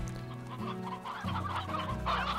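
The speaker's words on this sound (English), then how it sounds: "That's a lot of chickens, dude." Chickens cluck and chatter close by in the Slime Rancher video game, a short burst of busy, overlapping fowl calls with no talking.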